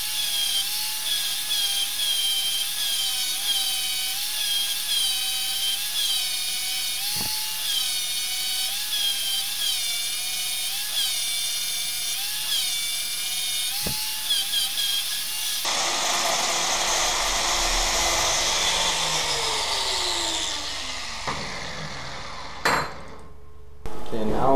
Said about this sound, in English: gonna grind off the corners at the right angle to the surface here